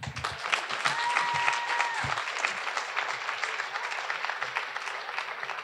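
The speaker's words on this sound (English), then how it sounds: "can we please get another round of applause for the Slam Poetry Club?" An audience at a high school poetry recitation finals gives sustained, loud applause, dense clapping continuing steadily to the end, with a brief murmur of voices near the start.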